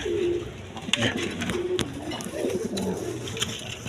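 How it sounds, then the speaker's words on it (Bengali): Black Diamond pigeons coo repeatedly at close range, low throaty calls rising and falling over a few seconds amid light rustling and sharp clicks. "এক পেয়ার ব্ল্যাক ডায়মন্ড দেখেন একদম কোয়ালিটি সম্পন্ন কবুতর"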